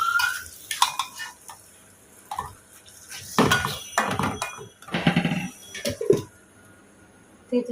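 A lid goes onto a pot of braising meat in a home kitchen, amid scattered clanks of metal cookware, light clatter and some running water, with irregular knocks spread over several seconds and no talking.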